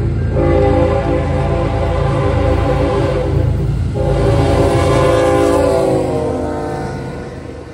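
CN Z195, a daily intermodal freight train between New Orleans and Chicago, passes close by sounding its horn in two long, loud blasts over the rumble of the cars. The noise fades as it moves away.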